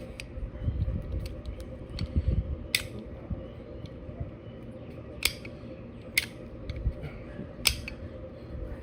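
Quiet mechanical clicks and clacks of a new production PRS bolt-action rifle bolt being cycled, a few sharp metallic snaps spaced over several seconds against a low room hum.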